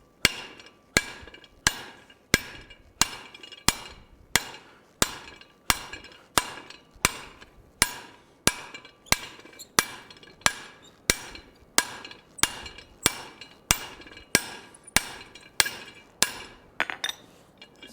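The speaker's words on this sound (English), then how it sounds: "you'll have to hammer on it a couple times to get it" Steady rhythmic hammer blows on hot iron in a forging die while a colonial-style trivet is shaped, about twenty-five sharp ringing metallic strikes at an even pace, close and loud with no talk.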